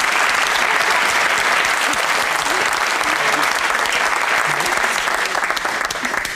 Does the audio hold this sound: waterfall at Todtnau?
no